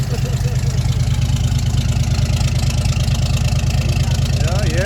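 A 1958 Mack B-21 fire truck engine idles steadily and loudly up close after sitting for 30 years, a deep even low rumble with regular pulses throughout, with faint voices in the background.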